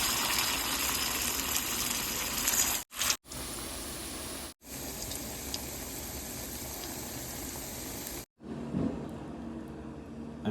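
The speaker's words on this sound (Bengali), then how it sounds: "এখন আমি এই কোফতাগুলো তেলে ভেজে নেব।" Jackfruit kofta balls fry in hot oil with a continuous, loud hissing sizzle, broken by a few short silent gaps, then settling into a quieter bubbling toward the end.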